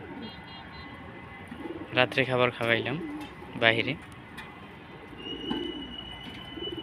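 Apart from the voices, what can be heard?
pet pigeons cooing at night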